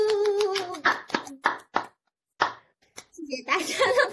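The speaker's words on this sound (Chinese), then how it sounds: "我们现在先请大家打开你的麦克风，一起掌声欢迎讲者" An online audience claps over their microphones to welcome a speaker at a medical-neuroscience talk: scattered, uneven hand claps and slaps from several remote participants, broken by short gaps, with a voice speaking briefly at the start.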